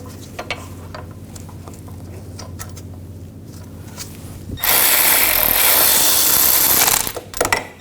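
A tool runs loudly and steadily for a few seconds while wheel hub bolts are tightened on a 2000-2006 BMW X5 rear hub, after quieter clicks and handling noises, ending with a short burst of clatter.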